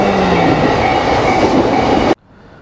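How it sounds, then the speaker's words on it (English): A train pulls into a Tokyo station, a loud, steady rumble of wheels and carriage noise filling the platform for about two seconds before cutting off abruptly to quieter ambience. "now we're waiting for the train to come"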